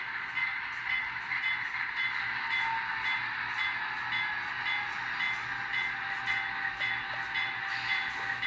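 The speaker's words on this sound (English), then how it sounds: "So I'm going to bring the locomotive onto the turntable, and then you can see it go to the main track." A model train locomotive rolls slowly onto a turntable, making a continuous whirring motor hum with faint clicks from the track, soft and even from start to finish.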